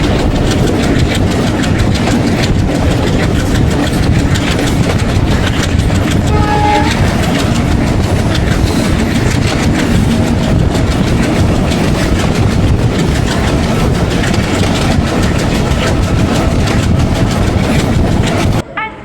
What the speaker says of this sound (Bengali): একটা ট্রেন আসতেছে